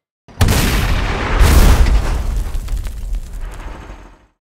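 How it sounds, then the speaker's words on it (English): A layered sound-effect explosion for a tank in a remote-control battle erupts with a deep, roaring boom and crackling debris. It swells loudly, then fades out over about four seconds. "In this particular explosion, there are about 17 sounds layered on top of each other."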